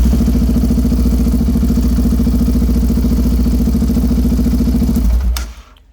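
A motorcycle fitted with a Cuervo +3mm throttle body idles loud and close with a steady, slightly pulsing rhythm for about five seconds, then cuts off and fades away.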